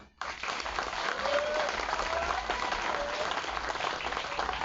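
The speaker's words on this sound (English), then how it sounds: "nous faire un grand applaudissement pour MOL et l'ambassade de Japon" Outdoor audience at a launch ceremony in Mauritius applauds MOL and the Japanese embassy; steady clapping begins abruptly and continues evenly throughout, moderately loud, with a few faint voices mixed in.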